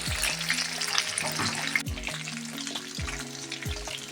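Fish fries in hot oil in a pan with a steady crisp sizzle, punctuated by several low thumps and scrapes as the pieces are moved, continuous and close with no talking.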